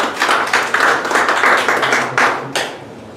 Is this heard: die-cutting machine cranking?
no